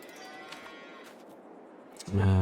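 A deep, loud moo from a cow in a farming video game begins near the end, after a quiet stretch of low background noise and soft clicks.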